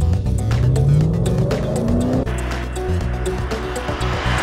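A BMW E34 with a 4-litre engine pulls away in first gear, its engine note climbing loudly and steadily as it accelerates, then settling into a smoother cruise, close to the listener.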